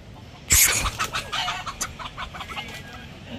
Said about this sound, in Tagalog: Ah, manok.